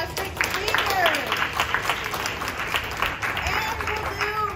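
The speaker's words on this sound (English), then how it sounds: "I think that we could do another round of applause for our fantastic speakers." Audience applause at a panel event on sexual assault, a steady wash of clapping from a crowd with voices talking over it throughout.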